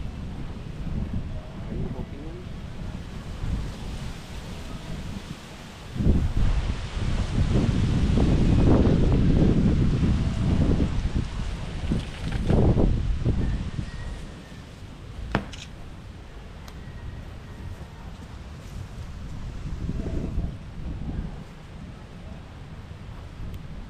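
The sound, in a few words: strong wind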